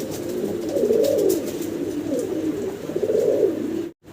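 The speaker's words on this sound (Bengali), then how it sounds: "গোলাপ ফ্যান্টাল খুব সুন্দর এক জোড়া কবুতর" A pair of fantail pigeons coos in low, rolling, throaty phrases that repeat steadily and close up, continuous for several seconds with no voices over them.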